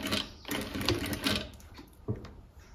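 Sewing machine stitching fabric in short bursts, rapid mechanical chatter starting and stopping several times, close and fairly quiet.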